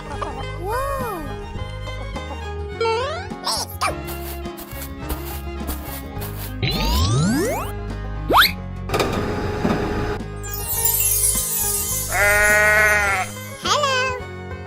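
Sheep bleating among cartoonish sound effects and music, with a few short wavering bleats standing out clearly above the busy mix.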